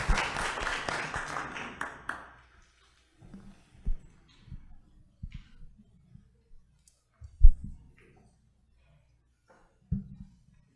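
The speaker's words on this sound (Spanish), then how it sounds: "Un aplauso más, por favor." Brief applause from a seminar audience in a legal lecture setting fades out after about two seconds, leaving near silence broken by scattered soft clicks and handling knocks.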